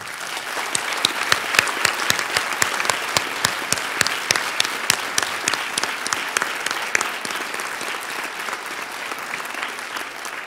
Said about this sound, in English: Let us now offer these young inductees a round of applause.